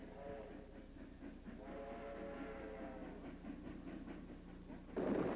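A train hauling excavated raw material to a gravel screening and washing plant during Hoover Dam construction rumbles steadily at a distance, with rhythmic wheel clatter and a faint whistle-like tone, ending in a louder burst.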